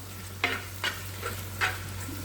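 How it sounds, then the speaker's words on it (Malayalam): Turmeric powder being stirred in a frying pan in a Kerala fish molee preparation, with four distinct scraping strokes of a spoon against the pan over a steady low hum, close and fairly quiet. "പൊടി ചേർത്തിട്ട് നന്നായിട്ടൊന്ന് ഇളക്കി വെക്കുക"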